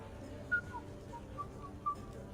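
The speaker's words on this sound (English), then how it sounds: "Are you whistling?" A character in the video game Mass Effect 3 whistles three short, high tonal notes over a low murmur of background music.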